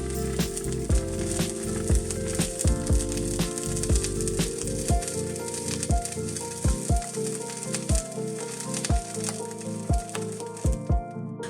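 Salmon fillet searing skin side down in a hot pan over high heat, a steady sizzle running throughout with occasional sharper pops and clicks, close and fairly loud with no talking.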